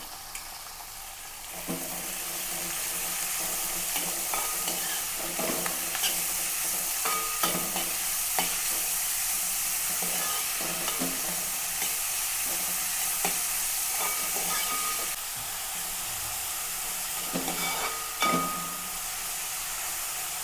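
Onion, green chilli and ginger sauté steadily in a hot pan, a continuous loud sizzle with scattered scraping stirs throughout, no voices.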